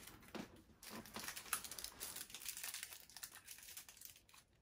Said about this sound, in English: Plastic pulled out now.